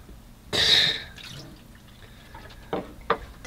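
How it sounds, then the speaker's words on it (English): Hot water splashes out of a pot in one short, close pour, followed by a few faint drips and small knocks in a quiet RV kitchen. "Let's dump some of that water out."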